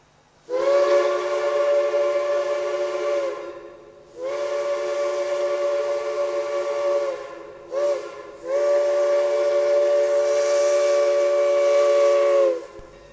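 A model steam locomotive whistle blows three long, loud chord blasts separated by brief pauses, close and clear.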